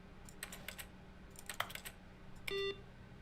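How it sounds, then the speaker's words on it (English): Keyboard typing sounds from The Stanley Parable game, quick bursts of clicky keystrokes in a few clusters, ending with a short electronic beep. "Why everything sound like a keyboard?"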